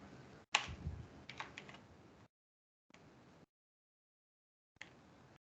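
Someone types the ipconfig command at a Windows command prompt on a computer keyboard, a quiet burst of rapid key clicks followed by two short, faint typing spurts separated by silence.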